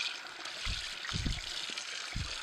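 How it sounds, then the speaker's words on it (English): Running water splashes over the auger of a Sana EUJ-808 juicer as it is rinsed, a soft, close trickle with a few brief, fuller splashes and gurgles, and no speech. "You're just rinsing it off"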